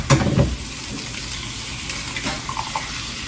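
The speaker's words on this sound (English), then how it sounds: "this is a little bit more butter than I want in the pan there, but I want to make sure my fried egg don't stick" An egg frying in plenty of butter in a pan, a steady crackling sizzle with a brief louder clatter at the start, heard close with no voices.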